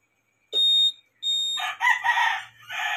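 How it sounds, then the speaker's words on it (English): Alarm on a Honda Click 150i motorcycle: two loud electronic beeps with a short gap, followed by a louder warbling siren pattern that rises and falls, close and alone. "ibig sabihin on na yung ating beeping alarm"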